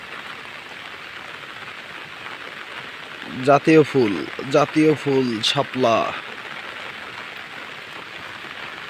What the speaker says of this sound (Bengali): বাইরে প্রচুর বৃষ্টি